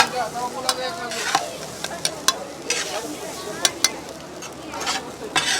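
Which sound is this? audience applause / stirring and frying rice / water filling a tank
stirring and frying rice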